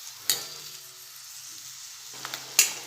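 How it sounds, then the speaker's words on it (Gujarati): Onions for dungaliyu sauté in a pan, a soft quiet sizzle with a few sharp clicks of the spoon against the pan, close by, with no talk. "તો 2 મિનિટ થઈ છે ને ડુંગળી આપણી સરસ સંતળાવા લાગી છે।"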